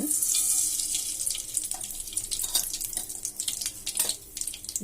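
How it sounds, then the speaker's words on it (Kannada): Mustard seeds crackle in hot oil in a pan for a beetroot palya, a close, dense hiss broken by many sharp, rapid pops. "ಒಂದೆರಡರಿಂದ ಮೂರು ಅಷ್ಟು ಎಣ್ಣೆ ಹಾಕ್ಕೊಂಡೀನಿ ಸಾಸಿವೆ ಹಾಕೋಣ"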